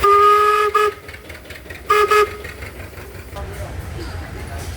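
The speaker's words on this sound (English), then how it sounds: "whistle." A steam engine whistle at an outdoor steam engine show gives two short, clear tonal blasts near the start, then steady engine and crowd background noise carries on.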